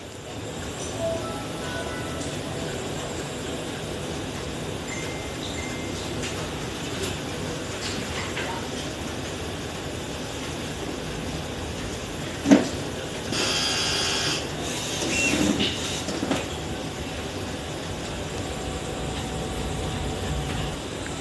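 DTF printer running a nozzle check, a low steady mechanical hum with faint carriage whirs and a sharp click midway, no talk.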